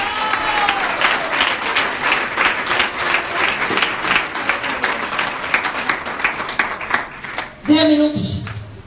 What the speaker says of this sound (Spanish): Regálenle un aplauso a Dios.